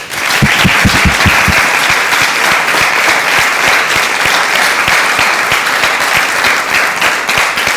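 Audience applause fills a café venue, a dense steady roar of many hands clapping close and loud from start to finish, with a few sharper individual claps standing out early on.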